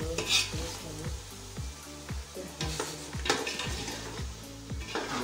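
Onions and whole spices fry in oil while a spatula stirs them steadily, giving rhythmic scraping strokes against the pot over a constant close sizzle, with no voices.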